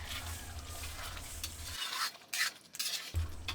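Beef afritada stew with vegetables stirred in a pot, a soft bubbling simmer with a few spoon scrapes and clinks against the pot, the low rumble briefly dropping out midway, with no voices.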